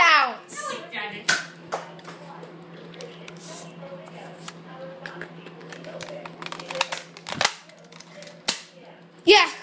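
Toy guns fired during a kids' indoor shooting game, sharp cap-gun pops scattered across the stretch, several loud and close, mixed with children's shouting and chatter.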